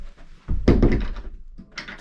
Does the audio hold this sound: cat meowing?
no